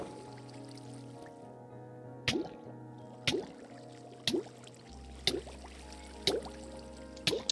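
Water drips and splashes as a player drowns in a blocky survival game, sharp wet drops landing about once a second over a steady low hum, fairly quiet and alone.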